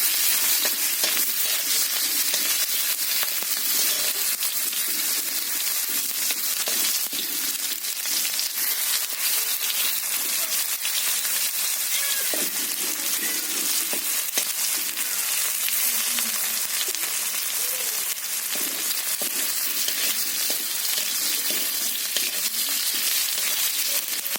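Tomato, onion and garlic with spices frying and being stirred in a kadai: a continuous loud sizzle with scraping and crackling stirring noises running steadily throughout, no talking.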